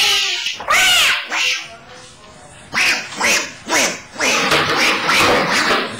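A cat meows repeatedly in a home, several drawn-out, wavering cries rising and falling close by, loud and alone with no talk over them.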